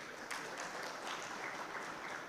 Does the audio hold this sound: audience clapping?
yes